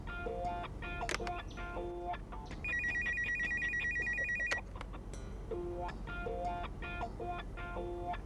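A telephone rings in repeated bursts of bright, trilling bell tones, with a sustained electronic ring in the middle, loud and close against a low background hum.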